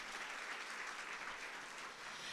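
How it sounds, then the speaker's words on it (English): Sustained applause from a large audience at a business success-academy presentation, dense and steady throughout with no talk over it. "Give them a big round of applause."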